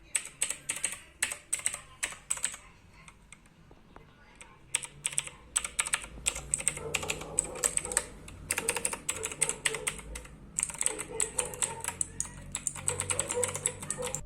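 Rapid clicky typing on a mechanical keyboard with blue switches, close up, in bursts with a brief lull midway before the clattering resumes.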